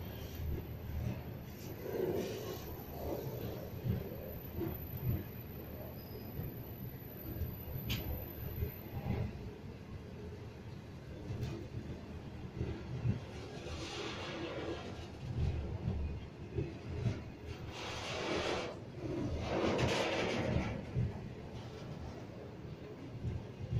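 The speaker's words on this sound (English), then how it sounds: "The run number for that freight train that just passed was 9138, headed by 381 classes." A freight train headed by 381 class locomotives rumbles past steadily for the whole stretch, a continuous low roar with rattling wagons and a few louder surges, no voices.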